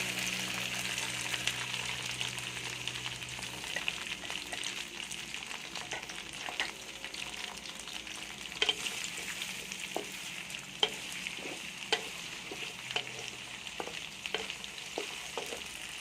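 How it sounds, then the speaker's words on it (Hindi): Okra (bhindi) frying in hot cooking oil in a kadai makes a constant hissing sizzle, broken by occasional light stirring clicks and scrapes, with no one talking. "कुकिंग ऑयल को गर्म करने के बाद इसके अंदर हम भिंडी को फ्राई करेंगे।"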